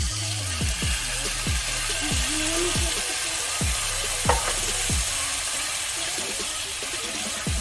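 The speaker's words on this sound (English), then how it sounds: "I'm going to add some coconut milk." Coconut milk pours into a pan of fish curry and sets off a loud, continuous sizzle and bubbling hiss, with repeated low thumps from stirring beneath it.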